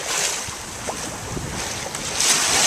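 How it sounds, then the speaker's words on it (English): A sailboat moves at about five knots through a nice breeze on the Pacific over still fairly smooth water, with steady wind rushing across the microphone and a continuous wash of water, no voices present. "there's a nice breeze, and I'm doing, you know, 5 knots, and it's like real sailing"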